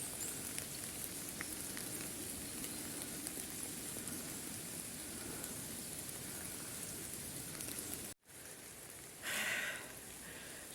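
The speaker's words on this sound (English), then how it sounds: "Well, it's raining now." Steady rain patters on the surface along a hiking trail in France, a constant close hiss of drops for about eight seconds before a brief gap and a short rustle.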